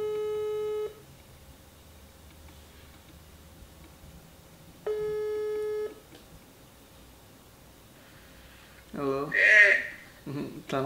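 Telephone ringback tones for a call placed at midnight, two long steady beeps about four seconds apart, clear and loud, followed by a voice answering at the end.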